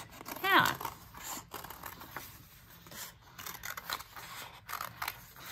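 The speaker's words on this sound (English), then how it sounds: "Then I've got a hole that I can stick my scissors in and cut out." Scissors are pushed into a starter hole and cut out a circle, giving a sharp snip near the start followed by softer crinkling and cutting noises. The sounds are close and intermittent.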